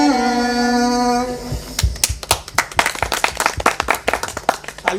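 People clap along to a devotional Sitaram bhajan at a village nach party. A held, sung tone fades out, then dense, rhythmic hand claps follow, loud and close, with several clappers overlapping.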